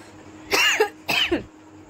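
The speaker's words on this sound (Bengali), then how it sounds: "প্রচণ্ড কাশি হয়েছে, গলাটা খুশখুশ করছে" Two harsh, chesty coughs from one person, close and loud, evenly spaced about half a second apart with quiet room tone between them.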